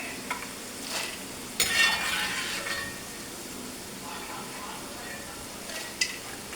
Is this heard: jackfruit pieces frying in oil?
yes